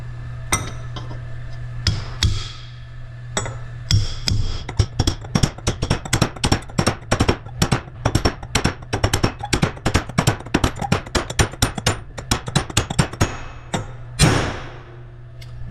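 A bearing race is tapped down into a track loader final drive gearbox with a long run of sharp metallic hammer strikes. The blows are close and rhythmic, a few at first and then coming quickly and steadily before they stop.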